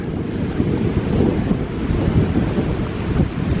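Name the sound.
strong wind on the Gulf coast at Cedar Key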